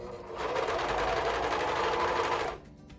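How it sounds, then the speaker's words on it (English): A sewing machine stitches elastic onto a swimsuit, running in one steady, close, continuous whir for about two seconds before stopping abruptly, with no talking. "I didn't change the thread on this just so that you can see it while I'm sewing"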